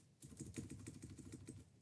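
Rapid clicking keystrokes on a faulty, sticking computer keyboard, close and fairly quiet, with an even patter of taps lasting under two seconds and no talking.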